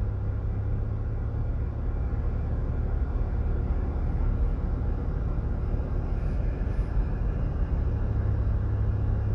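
Car cruising along a new two-lane-each-way coastal highway in southern Jamaica, a steady low rumble of engine and tyres on fresh pavement filling the whole stretch without pause.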